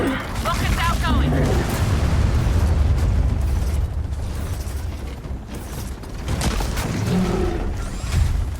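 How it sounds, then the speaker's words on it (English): Rockets fire and blow up in Gears of War 4 gameplay, with loud booming blasts, rumbling explosions and mechanical clanks layered densely throughout, alongside in-game combat chatter and voices. "Rockets outgoing!"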